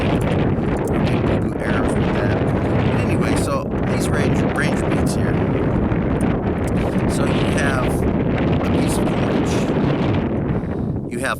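Strong wind buffets the microphone in a continuous loud rumble and roar, with brief faint sounds poking through the gusts.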